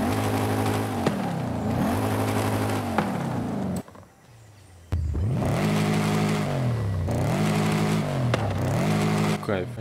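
A Lexus sports car engine in Forza Horizon 5 revs repeatedly in rising and falling sweeps, loud and close, with a short quiet gap midway before the revving resumes.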